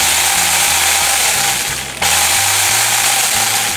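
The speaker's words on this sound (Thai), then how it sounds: "แต่คราวนี้ทุกคนจะเห็นนะครับว่าเลื่อยทำงานได้เลยนะ" An OSUKA 2-in-1 cordless electric pole chainsaw runs close by with a loud, high mechanical whine that shifts in pitch and dips briefly midway.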